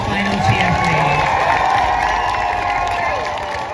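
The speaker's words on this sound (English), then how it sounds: "Can we get one final cheer, please?" A protest crowd at a Leeds demonstration for trans youth cheers and shouts in a steady, loud wash of voices that holds through the whole stretch and eases slightly at the end.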